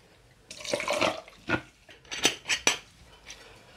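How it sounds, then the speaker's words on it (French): Ice cubes dropping into a cocktail shaker in a series of sharp, close clinks and rattles, about half a dozen irregular hits over a few seconds against a quiet background. "On va y mettre des glaçons dans le shaker"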